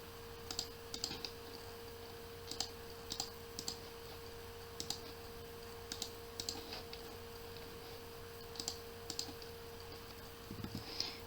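Computer keyboard typing CAD commands, with small clusters of light key clicks at uneven intervals over a steady background hum.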